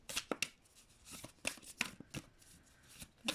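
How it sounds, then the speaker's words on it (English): Tarot cards shuffled by hand in a quick, crisp series of riffles and slaps, several short bursts with brief pauses between, close and fairly quiet. "I'm going to shuffle the cards right now"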